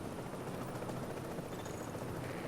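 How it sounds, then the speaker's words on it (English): A helicopter in the video game The Division, a steady rotor and engine drone at moderate distance, constant and unbroken with no voices over it. "Helicopter is good to go. They're moving out."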